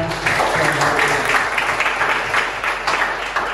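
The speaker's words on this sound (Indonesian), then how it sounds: "Tepuk tangan untuk kita." An audience applauds at the close of an activity session, a short burst of dense, steady clapping that stays loud and even throughout.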